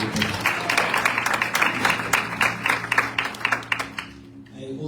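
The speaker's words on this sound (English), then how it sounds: "Can we clap hands for Jesus?" A church congregation at a Sunday service claps hands in a lively, fairly regular rhythm for several seconds, the clapping ringing out clearly before it tapers off quickly at the end.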